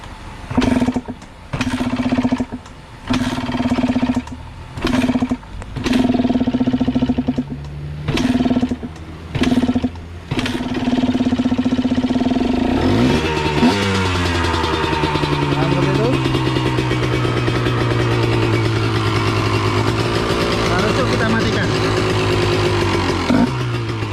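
A two-stroke motorcycle is kick-started several times in a row with short sputtering bursts, then catches and runs, revving up and down loudly close by.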